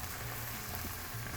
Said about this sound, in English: I can tell that it's sizzling